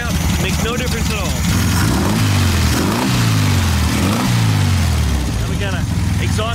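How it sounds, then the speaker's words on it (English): A warmed-up 1974 VW Beetle engine idles roughly in a steady, loud, close rumble with uneven pulsing throughout, and people talk over it. "this is how it idles when it's warmed up"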